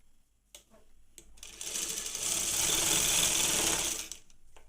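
A sewing machine stitching a cross-cut blouse, starting with a few clicks, then a continuous whirring run that builds and holds for about two seconds before stopping, heard alone and fairly close.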